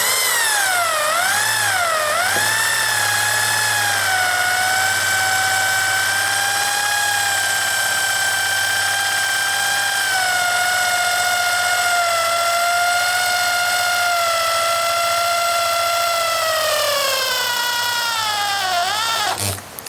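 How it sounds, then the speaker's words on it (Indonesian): An H&L PRO 10RE 400W electric drill with a 6.5 mm bit bores slowly through a 3 mm thick steel L-plate, its motor whining steadily and loudly for nearly the whole stretch, pitch wavering at the start and dropping as it winds down. "Untuk pengetesan pengeboran pada besi, kita pakai plat L."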